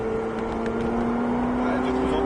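A Ferrari 488 GTB engine on a race circuit, a steady loud droning hum at constant pitch under steady interior road noise, heard from inside the car without talk.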